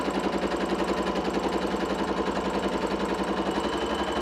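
Sewing machine stitching a quilt seam for a square-in-a-square baby quilt block, running at a steady fast rhythmic whir throughout.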